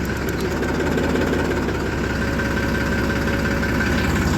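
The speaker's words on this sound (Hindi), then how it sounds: "ट्रैक्टर स्टार्ट हो गया है जी।" A tractor engine runs at a steady, loud idle close by, with a continuous low chugging rumble and no talking on a foggy morning farm.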